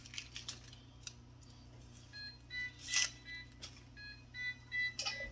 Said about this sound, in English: that was our timer for the top oven where the turkey is